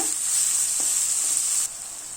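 Continuous hissing sizzle of onions cooking in a hot pan, close and steady, with a brief stir partway through before the sizzle drops quieter.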